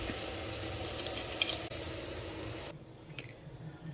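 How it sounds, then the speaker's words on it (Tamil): Foxtail millet and lentils tipped into a pot of boiling water for pongal, a steady bubbling hiss with soft splashing and patter, then the noise drops sharply as the grains settle in. "கொதி வந்ததையுமே தினை அரிசியும் பருப்பையும் நம்ம இதில் சேர்த்துக்கலாம்."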